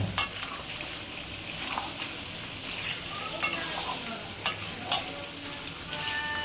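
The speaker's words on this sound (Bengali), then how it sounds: "এবার ভাজা পেঁয়াজগুলো দিয়ে দিলাম, দিয়ে আর 2 মিনিট 3 মিনিট কষিয়ে নেবো।" Goat mutton stir-fried with fried onions sizzles steadily in a pan, with a few sharp clinks of the utensil against the pan scattered through the frying.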